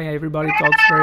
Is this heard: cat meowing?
yes